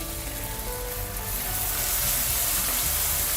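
Chopped cilantro and tomatoes hit a hot pan for a spicy chili chicken ghee roast, setting off a loud, hissing sizzle that swells and holds steady with no one talking.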